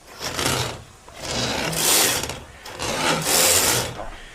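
Drain cleaning machine running in bursts, a loud mechanical whirring and rattling that rises and falls in three surges, close by and without talk.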